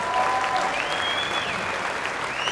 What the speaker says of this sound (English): Give the Braddahs a big round of applause.